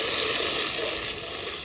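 Ground cumin, chili and coriander paste sizzles steadily in a hot pan for tomato-based parse fish curry, a dense continuous hiss that stays loud and close throughout with no talk.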